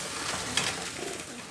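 Pigeons coo softly inside a trapping box and training box, a low steady murmur of calls with a brief sharper sound partway through. The cooing stays close and continuous over a constant background hiss.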